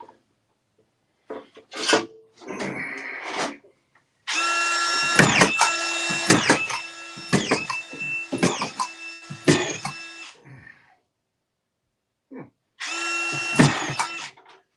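Power drill driving screws into ceiling drywall: bursts of whining motor with strained, grinding pitch, a long sustained run in the middle and shorter pulls before and after, separated by silent pauses, close and loud.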